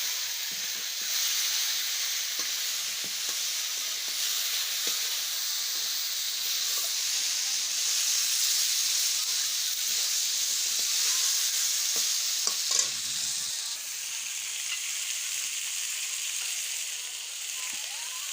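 Meat frying in a pan with a ground paste of green chili, garlic, ginger and cumin, giving a steady loud sizzle and hiss with occasional stirring scrapes throughout and no talking.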